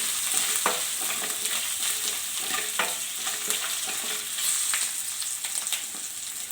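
A spoon stirs ginger garlic paste and turmeric powder frying in oil in a pan for pasta, a steady close sizzle broken by repeated scraping strokes at an even pace, with no voices.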